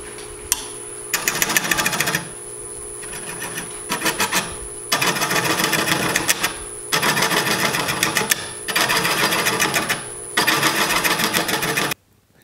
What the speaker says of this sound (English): I'm going to start out with a gouge and try to just hog out some of that wood.